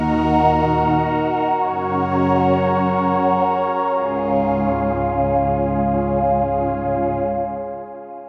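A thick, sustained Omnisphere synth pad with Harmonia's added oscillators panned left and right, held chords shifting downward in two steps, wide and shimmering with a chorus-like sheen, loud and steady, gently fading at the end.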